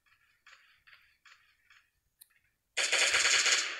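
Fireworks going off in the video game Last Day on Earth: a few short crackling bursts, then a loud, dense, sustained crackling barrage that fills the last second.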